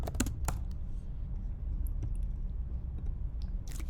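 Computer keyboard typing while coding in Swift produces a quiet run of irregular clicks and taps, with a few sharper keystrokes near the start and end, over a low background rumble.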